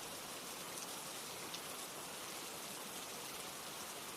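Steady rain falls as a dense, even hiss of drops on surfaces, unbroken and fairly soft throughout, with no voices.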